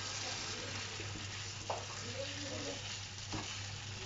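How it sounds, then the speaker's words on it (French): A tartiflette mixture with cream being stirred in a pan, giving a soft, continuous low sizzle with a couple of brief scraping clicks from the spoon. The sound is quiet and close, and nobody talks. "Et là, on va mélanger le tout."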